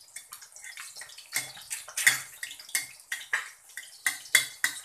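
An egg fries in hot oil in a wok while making Pad Krapow, with loud crackling and sputtering bursts in an irregular rhythm, close and dense with no voice.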